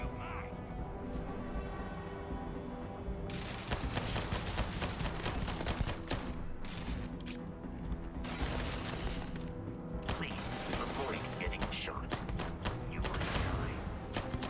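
Rapid bursts of gunfire from the video game Starfield crackle in dense, repeated volleys, loud and close, with short pauses between strings of shots and a few heavier booms.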